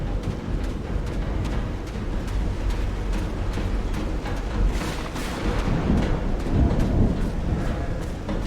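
Thunder rolls through a stormy night aboard a ship in the game Call of the Sea, with deep, continuous rumbles and swelling cracks over a rainy wash, moderately loud and without speech.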